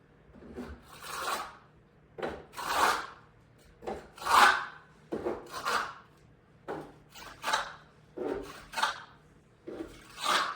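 A cotton cloth rubs dried drywall skim coat off a window pane in repeated brisk rasping strokes, about a dozen separate scrubbing passes, close up and moderately loud, with no talk.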